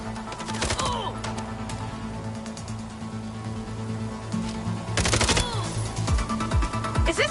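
Gunfire in the video game MindsEye, scattered bursts of sharp shots over a steady background drone, clustered at the start and again toward the end, with a voice briefly heard.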